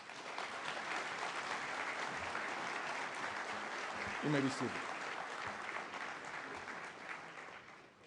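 A ceremony audience at a professional induction event applauds in a sustained, even roar of many hands, with a brief spoken line from the stage partway through as the clapping carries on.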